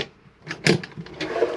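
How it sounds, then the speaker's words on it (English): A large drawer in an Adria Coral Supreme 670 SL motorhome slides open with a short scraping rattle, followed by a few light knocks and bumps. "And slide, you've got a large drawer there"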